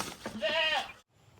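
A goat on a small farm gives one loud, quavering bleat close by, followed by a brief quiet pause.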